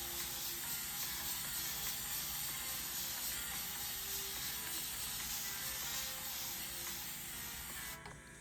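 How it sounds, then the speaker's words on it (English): A continuous fine hissing spray with faint mechanical clicking as a spray bottle mists water onto hair, close and fairly soft. "I am just going to take my Kinkistry spray bottle and get it nice and wet"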